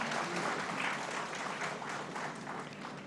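Audience applause welcoming guests at an Urdu literary evening in Solapur, a dense, steady wash of clapping throughout that eases slightly toward the end.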